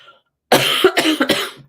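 A person coughs several times in a quick burst, loud and close, after a brief quiet moment.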